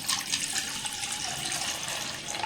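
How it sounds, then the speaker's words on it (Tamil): Water poured over eight almonds to soak them for a cardamom-almond cooling drink, a steady close splashing rush of liquid lasting throughout with no talking. "நான் வந்து இவ்வளோ தண்ணி ஊற்றிருக்கேன்."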